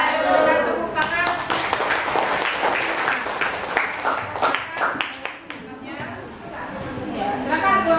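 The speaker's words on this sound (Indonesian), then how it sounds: "Tepuk tangan." A classroom audience applauding after a group presentation, with a sustained burst of many hands clapping at close range that thins slightly toward the end, with no talking.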